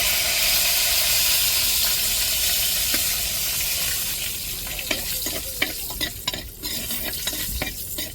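Mustard seeds, urad dal and curry leaves sizzle in hot oil with a strong, hissing crackle. Sharp pops and stirring scrapes grow more frequent toward the end.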